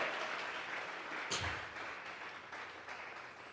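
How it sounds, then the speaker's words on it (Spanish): Steady, fairly faint applause from a congregation at a Sunday morning church service, a continuous wash of clapping heard from some distance with no talking over it. "Vamos a regalarle ofrenda de palmas al Dios de la gloria."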